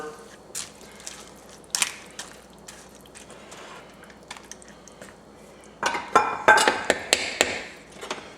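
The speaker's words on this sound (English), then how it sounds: "I've broken mine in half. I'm going to add that in. And we're going to give that a good stir." Broken noodles are stirred into a simmering pot of pastalaya with a spoon, giving sparse clinks and scrapes against the pot and then a closer, busier run of clattering and wet stirring near the end.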